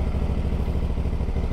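A motorbike engine runs on a road race route on the Isle of Wight, a steady, loud, close rumble with a fast, even pulsing throb and no voices.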